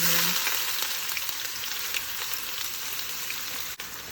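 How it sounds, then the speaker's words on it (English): Finely chopped onion frying in hot oil with turmeric, mustard seeds and cumin, a steady close sizzle and crackle that holds evenly throughout with no voices. "Let's cook the onion for 3 to 4 minutes until it's translucent."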